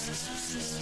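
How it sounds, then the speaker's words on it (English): Continuous abrasive rubbing, a steady close-up sanding rasp on a car roof before primer, with no pauses. "sanding on the roof, so trying to get it nice and smooth"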